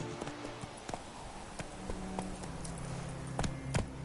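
Hooves clip-clop steadily as the horse Roach moves through The Witcher III, with a soft, even rhythm of footfalls over low ambient game sound and no speech.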